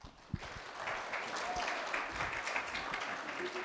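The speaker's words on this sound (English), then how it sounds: "he's convinced every time people clap, it's for him" An audience claps steadily at a guide dog graduation ceremony, a dense, moderately distant applause that follows a single sharp knock at the start.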